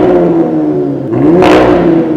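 A car engine revving in dynamic mode with its exhaust valves open, a steady loud droning exhaust note that swells into a brief rev and then settles back.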